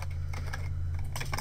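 Close, quick typing on a computer keyboard, a light patter of key clicks over a steady low hum.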